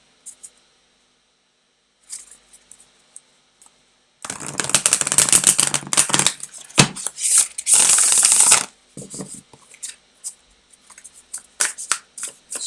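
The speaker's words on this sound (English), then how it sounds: "I'll give these a good shuffle again." A deck of tarot cards is shuffled in quick riffling bursts: faint flicks early on, then two loud, dense shuffles close by, followed by scattered taps and card snaps.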